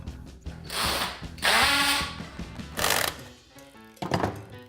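An electric drill drives screws into plastic wall plugs set in a wall, giving a few short bursts of whirring and ratcheting clicks with pauses between them, fairly close and moderately quiet.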